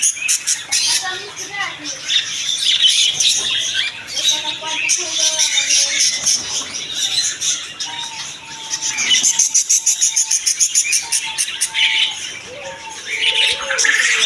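Caged king quails calling at a bird and aquarium shop in a rural Bangladeshi market, repeated shrill squeaky chirps and squawks close by, with someone talking intermittently.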